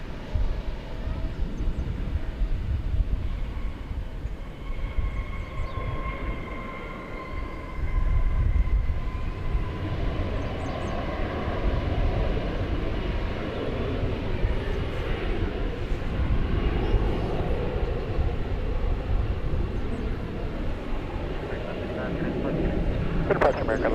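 An Envoy regional airliner takes off from runway 18 left at DFW airport, its engine roar building into a broad, sustained rumble that swells and lingers, heard from a distance with steady whining tones early on.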